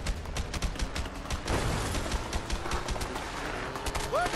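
Dense, rapid gunfire crackles continuously during a chase in the video game A Way Out, with rattling bursts under engine noise and a short tonal chirp near the end.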